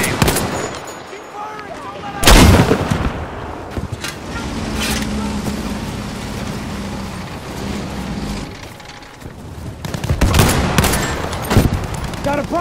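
Battlefield 5 battle on the Solomon Islands, with a Selbstlader M1916 rifle: loud close gunshots and bursts of fire among distant shooting and rumbling explosions, with voices heard in the mix.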